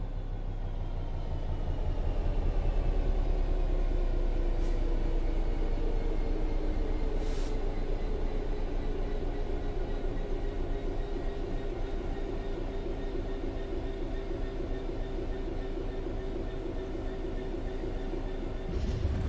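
A simulated train in Train Sim World 3 coasts along on level ground with a steady, even rumble and a soft mechanical hum. Nobody speaks.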